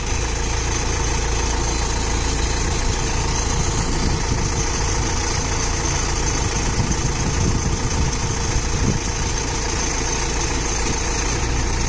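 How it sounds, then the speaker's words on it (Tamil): A Zoomlion FH88 combine harvester engine idles loud and steady with a constant drone and the mechanical whir of its rotating unloading auger, running without change or voices for the whole stretch. "அன்லோடிங் ஆகர் பாருங்க. 270 டிகிரி ரொட்டேட் பண்ணி காமிக்கிறோம்."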